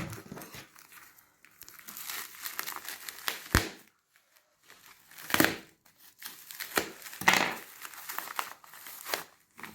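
Packaging from a delivered online order being torn open, with bursts of crinkling and crunching plastic wrap and paper, close and loud, separated by brief pauses.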